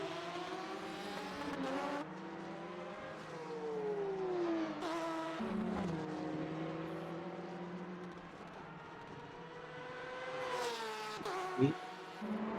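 A Porsche race car engine in a sim racing game at the Marina Bay Street Circuit keeps up a steady whine with rising and falling pitch through corners under continuous commentary, with a brief sharp spike near the end.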